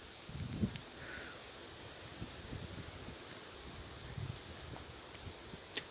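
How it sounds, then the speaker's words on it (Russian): Strong, gusty wind of about 20 m/s buffets an outdoor microphone, a steady broadband roar with brief louder gusts and low rumbling thumps, with no voices. "Видели, да, какой ветер был?"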